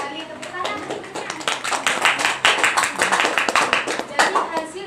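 Classroom applause from a group of seventh-grade students after a presentation, a dense steady clatter of many hands clapping that lasts the whole stretch, close and fairly loud.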